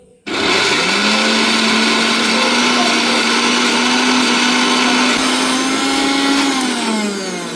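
A blender motor roars steadily for several seconds, grinding a thick ginger and garlic paste, then winds down toward the end.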